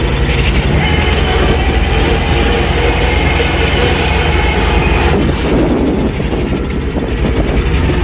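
Tractor engine running in a hayfield during haymaking: a loud, continuous low rumbling drone close by, holding steady throughout with a slight shift in tone partway, with no voices heard.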